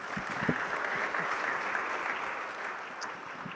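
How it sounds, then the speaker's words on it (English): Steady, moderately quiet applause from the audience at the T3 Transition Accelerator Demo Day 2019 after the startup pitches, a dense wash of many hands clapping continuously and tapering slightly toward the end. "Let's give another round of applause for all these great companies that have just pitched."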